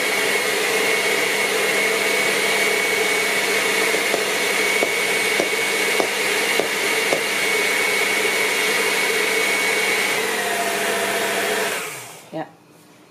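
An electric mixer works thick choux pastry dough with a loud, steady, high-pitched whine and faint knocks of the dough. Near the end the motor winds down to silence.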